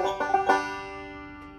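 Banjo picking the intro of Salt Creek, a few quick bright plucked notes with a slide, ringing out and fading over a second and a half, played alone up close.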